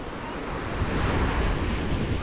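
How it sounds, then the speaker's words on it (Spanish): A rough, choppy sea washes against the beach at Playa del Parque Fundadores, a constant roar of surf with wind buffeting the microphone. "como veis está un poquito movido el mar"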